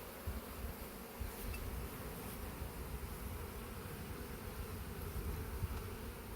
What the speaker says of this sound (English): Look at all them bees that were standing there waiting.